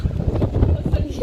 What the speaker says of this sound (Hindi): बहुत तेज हवा है यार।